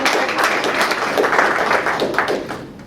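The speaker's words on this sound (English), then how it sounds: "let's give them a round of applause" An audience at a library panel discussion on animal rights gives a short burst of steady applause that fills the room for a few seconds.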